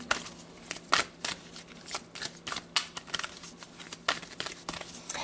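Tarot cards being shuffled by hand, a quick run of crisp riffling slaps and flicks, close and fairly quiet, with no talking over it.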